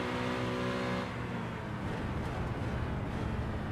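A white Red Bull BMW M3 GT3 race car in a racing video game at Mount Panorama, giving a steady, loud, high-revving engine drone with a whirring tone throughout and no voices.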